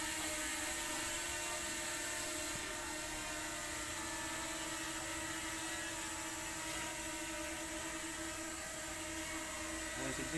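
A DJI Mini 2 drone hovering on its first flight gives off a steady, close, high-pitched whirring buzz from its rotors that holds without a break throughout.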